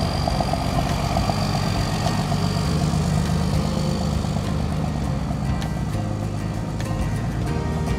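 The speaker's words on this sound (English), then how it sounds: "This dump truck is built in China. It looks like a Volvo clone" A Chinese-built dump truck resembling a Volvo idles nearby in Suriname, its diesel engine running as a steady, loud low rumble with continuous mechanical rattle and no letup.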